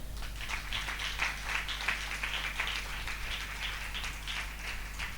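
A church congregation applauding for Jesus, steady and fairly faint, with a low hum running underneath the clapping.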